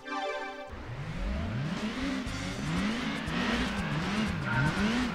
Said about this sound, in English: Let's listen to the gear changes.